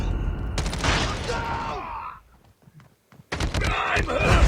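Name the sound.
Type-25 rifle gunfire from a video game, Shipment map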